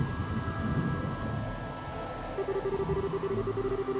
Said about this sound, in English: You didn't have to come out in the rain.